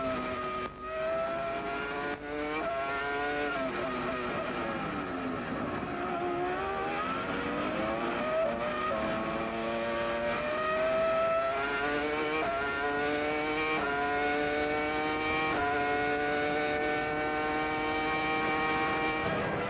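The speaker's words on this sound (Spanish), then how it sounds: "porque el sonido, como tú dices, Alejandro, del motor es una de las cosas que más atrae a los fanáticos de la Fórmula 1" Formula 1 race car engines at the Australian Grand Prix scream past continuously, loud high-revving tones climbing and dropping through gear changes as cars accelerate and brake.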